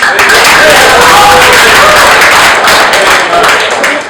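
A seminar audience claps hard in dense, sustained applause, loud and close throughout, with no pauses.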